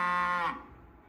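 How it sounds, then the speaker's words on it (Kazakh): A single cow moo, loud and tonal, holding for about half a second before cutting off into faint background noise. "Сиыр қандай жануар? Үй жануар."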